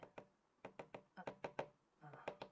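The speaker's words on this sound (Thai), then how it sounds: "ใช้ค้อนนะครับฝั่งที่เป็นพลาสติกครับในการเราก็จะไม่เป็นรอย เคาะลงไป" Several sharp knocks from the plastic face of a hammer striking a pin in a metal watch band resting on a support block, in irregular clusters of close, crisp taps with someone speaking in between.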